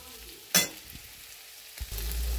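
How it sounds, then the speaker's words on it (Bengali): Potato, capsicum and onion frying in a pan give a quiet low sizzle, broken by a sharp clatter of the spatula stirring and a second scrape, then a rising hiss near the end. "ভাজা হয়ে গেছে, নাড়িয়ে নিই।"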